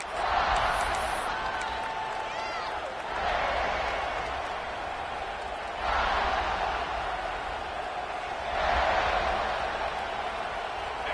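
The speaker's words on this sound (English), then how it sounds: "This crowd ready to make its presence known." Football stadium crowd at Texas Tech versus South Carolina, a broad roar that swells in several waves and fades back between them, with a commentator's voice running beneath.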